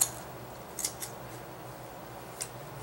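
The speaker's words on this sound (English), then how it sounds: "you can come over here and cut some eyes" Scissors snip eye holes into a homemade voodoo doll, a few quick faint clicks close by over a low steady background hum.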